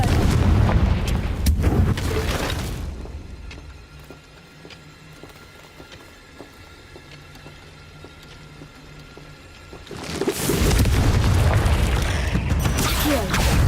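Confringo blasting spell in Hogwarts Legacy: a loud, rumbling explosion burst at the start, a quieter stretch with faint mechanical ticking, then another heavy explosive roar near the end.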